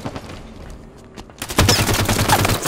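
Rapid bursts of gunfire in the video game Halo 5, a quieter patter of shots giving way to a loud, dense fusillade that continues steadily to the end.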